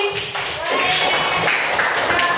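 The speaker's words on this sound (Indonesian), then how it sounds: "Bagus sekali, tepuk tangan Mbak Jati." Children in a classroom clap together for a classmate, a brisk run of dense, overlapping claps that continues steadily alongside a speaking voice.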